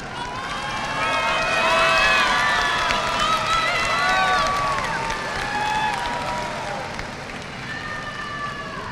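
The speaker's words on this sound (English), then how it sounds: "It's okay, parents, you can clap, you can clap." Parents applaud and cheer at the Nixon High School Class of 2022 graduation ceremony, a steady wash of clapping from a large crowd filling the whole stretch, with some vocal whoops over it.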